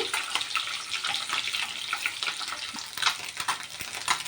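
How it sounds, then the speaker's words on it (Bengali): Eggs crackle and sputter in hot oil, bright and close, with occasional scrapes and taps as a spatula turns them. "ডিমগুলো আমি একটু উল্টে দেব উল্টে উল্টে দেবো"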